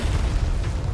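A grenade blows up in the Resident Evil 4 Remake video game, a single dense, rumbling blast that fills the whole second with heavy low-end roar and no talk over it.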